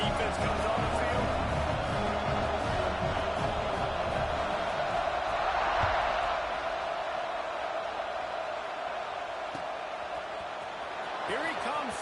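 Football stadium crowd roaring at a college game between Auburn and Tennessee, a dense sustained roar with scattered shouts swelling and easing, heard alongside a broadcaster's voice.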